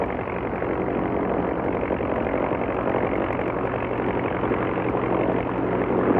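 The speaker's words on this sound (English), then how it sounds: "it is even possible to fly in by helicopter." A steady, droning helicopter engine roar holds at constant loudness throughout, running nearby, with no voices.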